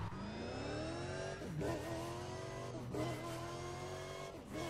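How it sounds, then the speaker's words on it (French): A Bugatti Veyron in the Need for Speed Undercover video game revs loudly and continuously, its engine pitch climbing and dropping through several gear shifts with turbo whine layered on top. "T'entends trop le moteur. T'entends les turbos, mais pas de ouf."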